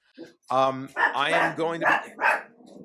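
A puppy barks and yips in short bursts close by, mixed with a person talking to it during a podcast recording.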